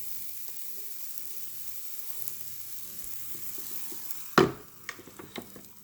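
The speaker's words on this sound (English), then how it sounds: "Hear the sizzle." A quiet, steady sizzle builds low in the background, then a sharp clack is followed by brighter crackling and hissing of pumpkin spice waffle batter cooking in a waffle maker.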